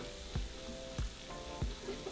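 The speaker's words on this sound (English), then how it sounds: "we're going to fry them until they turn into a beautiful golden color" Tortilla chip triangles frying in hot oil, a steady close sizzle with soft periodic stirring thumps, no talk.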